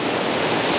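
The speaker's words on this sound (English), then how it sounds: "It's like this mad little waterfall." A small waterfall at a shallow swimming water hole, a steady broadband rush of falling water, close and continuous with no voices.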